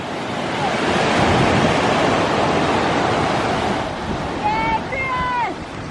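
Ocean surf breaks and rushes nearby where someone is surfing, a loud, steady wash mixed with wind noise on the microphone, while people talk and call out over it.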